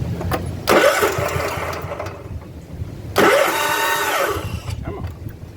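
A John Deere riding mower's CV13S engine, just fitted with a new fuel line, cranks in two separate bursts about two and a half seconds apart. Each burst is a loud, close, rough whirring that fades out without settling into a steady idle.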